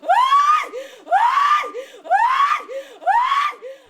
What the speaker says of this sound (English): screams continued to ring out from residents mourning the tragic loss